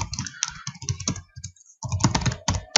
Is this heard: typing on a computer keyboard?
yes